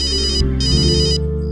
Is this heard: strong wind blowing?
no